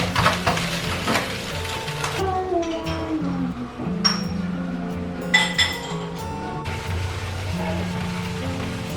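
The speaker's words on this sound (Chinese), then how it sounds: "然后最后我们撒一把葱段，再给它炒一炒。" Soy sauce instant noodles stir-fried with scallion pieces in a wok, with metal spatula clinks and scraping over a light sizzle, plus a few sharp clanks as a voice speaks.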